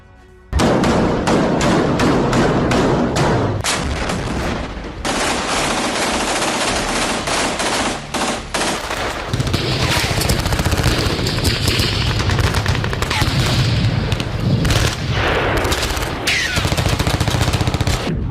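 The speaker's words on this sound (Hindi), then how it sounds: "गाजा में बरसता ये गोला बारूद इजराइल का प्रतिशोध है।" Heavy gunfire and shelling in Gaza during the Israel-Hamas war, with dense bursts of rapid machine-gun fire and booming thuds crackling loudly and continuously throughout.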